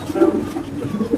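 A female pigeon, one of several pigeons kept for sale, coos softly in a few low rolling calls close by, with faint background noise.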